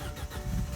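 An Audi A4 / VW Passat engine with a cylinder 1 misfire from a bad coil pack runs close by, giving a steady, rough low rumble for under a second with no talking.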